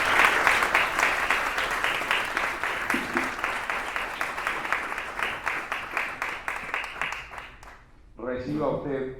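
An awards-ceremony audience claps steadily, the applause fading away near the end before a voice begins speaking.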